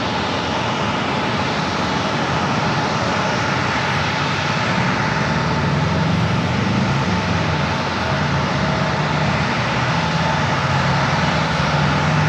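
A plane comes in to land at San Diego airport, its engine roar loud and continuous, a broad sustained rush with no talk over it.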